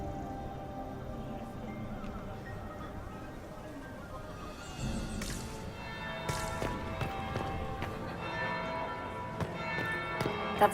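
A bell rings in the video game Dragon Age: Inquisition. Sustained, ringing tones enter about halfway through and keep sounding over quiet in-game ambience.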